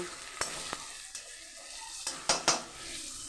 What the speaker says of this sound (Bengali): তো পেঁয়াজটা আমার ভাজা হতে থাক